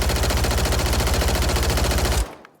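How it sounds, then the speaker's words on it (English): An SMG in the video game Warzone fires a rapid, continuous burst of evenly spaced shots, loud and close, stopping abruptly near the end into quiet. "I like the way this gun sounds when you shoot it."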